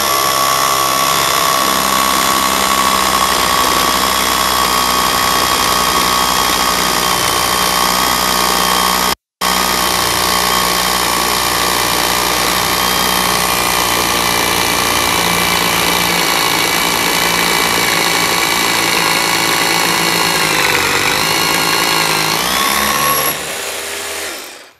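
A Makita cordless rotary hammer drill bores a 24 mm hole with a 500-length bit, hammering loudly and continuously at close range for about twenty-three seconds, with one momentary break before stopping at the end.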